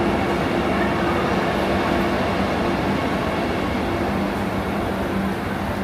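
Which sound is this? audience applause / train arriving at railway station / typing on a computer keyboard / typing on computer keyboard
train arriving at railway station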